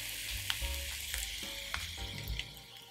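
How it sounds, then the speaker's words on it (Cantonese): A layered French potato pave slowly pan-fries on low heat, a close, steady sizzle with crackling pops and a few soft clicks from stirring or turning, heard alone without voices. "我哋用細火將佢慢慢煎，務求咧令到每一面都達到完美嘅金黃色啊"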